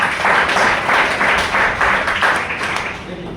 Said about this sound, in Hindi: सबसे पहले अमन जी के लिए जोरदार तालियां